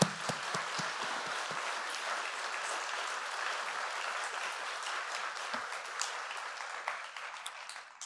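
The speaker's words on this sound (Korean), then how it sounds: "우리 조갑진 부총장님 나오실 때 우리 크게 환영의 박수로 맞이하겠습니다" A church chapel congregation applauds in welcome, a steady, dense wash of many hands clapping that continues at even loudness for the full stretch, a few sharper claps standing out near the start.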